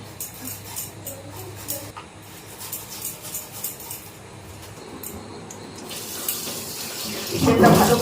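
Tap water runs steadily into a kitchen sink as chilli, garlic and chicken are rinsed for homemade pakora, a continuous splashing rush that grows louder and fuller near the end, with no voices.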